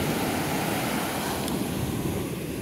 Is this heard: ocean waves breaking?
yes